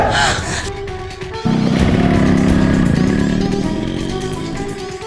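A motorcycle carrying two men revs up and roars away nearby, its engine loud and steady before slowly fading, with a short burst of noise just before it starts.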